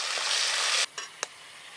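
Nigella seeds and green chilies hit hot mustard oil in a kadai with a loud, steady sizzle that cuts off abruptly, followed by a couple of faint clinks and a short hiss.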